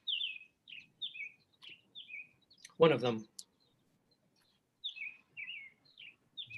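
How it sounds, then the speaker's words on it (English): Birds chirp outside in short, high, repeated tweets spaced through the scene, fairly faint, with a brief burst of speech interrupting in the middle. "Birds are making a racket"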